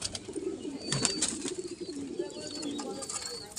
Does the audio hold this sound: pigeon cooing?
yes